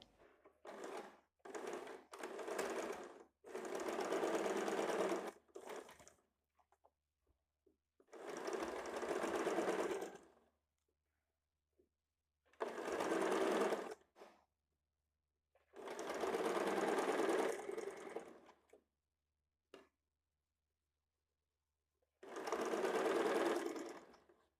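A sewing machine stitches a size 32 high-neck blouse with a silk lining in several loud, close bursts of rapid whirring, separated by short pauses and quiet gaps.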